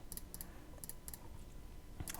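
Soft, sparse keystrokes on a computer keyboard come as scattered clicks and short bursts, faint and close with no voices.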